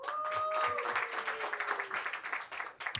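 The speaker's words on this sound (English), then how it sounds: "Clap for yourselves." A comedy show audience claps at a moderate distance, a brief, fairly thin burst of applause that tapers off toward the end.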